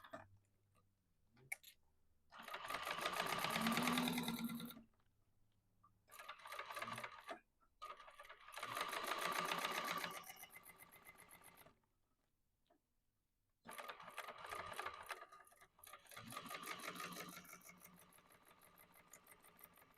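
A sewing machine stitches around the short side of a quilt with a wide seam allowance, running in several steady whirring bursts separated by brief pauses, close and clear.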